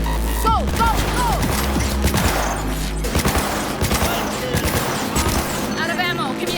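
Loud gunfire in Cyberpunk 2077: dense volleys of sharp shots and impacts run throughout, mixed with game voices talking over the fighting.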